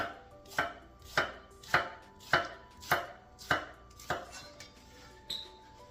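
An Acero kitchen knife chops on a cutting board in about eight evenly spaced, crisp thuds, close and alone, with the last strokes a little lighter.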